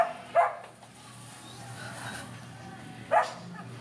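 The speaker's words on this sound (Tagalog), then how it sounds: "ang ingay ng aso" A dog barks outside during a live-streamed algebra lesson, two sharp yips spaced a few seconds apart over a quiet room background.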